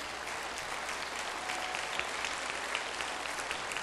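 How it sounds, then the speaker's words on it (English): Church congregation applauding to honor the mothers, a dense, steady roar of many hands clapping together without pause, fairly loud and continuous. "Let's just give them a huge round of applause for the mothers."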